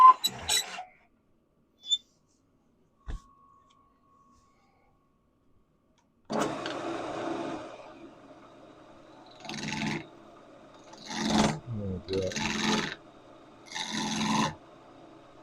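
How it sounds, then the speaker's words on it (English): A wooden tenon being shaped on a woodturning lathe: a few short taps and a pause, then repeated bursts of rough, raspy cutting and rubbing, close and fairly loud, with gaps between each pass. "I'll just shape the tenon for what I need on that surface"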